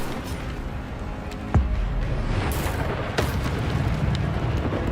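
Incendio fire spell from Hogwarts Legacy erupting in two sharp fiery bursts, the first loud and the second softer, over a steady rumbling wash of game ambience.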